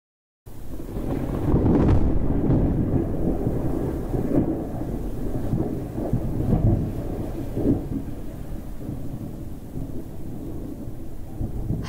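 A heavy storm rolls in on a mountain peak, with long low rumbles of thunder over steady rain and gusting wind that buffets the microphone, continuous and close, with no voices.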